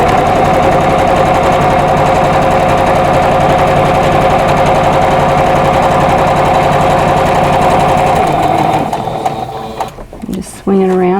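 A sewing machine stitching quilt block fabric runs loud and steady with a rapid mechanical whir, then slows and stops, followed by a few handling clicks.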